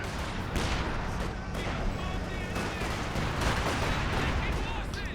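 Machine gun fire in the strategy game Company of Heroes 2 amid other battlefield shooting: continuous crackling bursts and booms, dense and loud throughout, with a voice speaking underneath.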